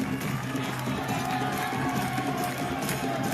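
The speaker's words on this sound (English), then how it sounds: "The crowd is having a moment here." Crowd at a men's kabaddi final between Viruthunagar and Erode at the Isha Brahmotsavam, a steady, dense murmur of many voices with scattered calls and cheers filling the space throughout.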